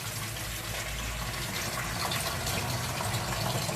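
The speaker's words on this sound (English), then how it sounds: "I'll put water in a basin" Water pours steadily from a tap into a basin, a continuous full rushing gush that stays loud and even throughout, with no voices.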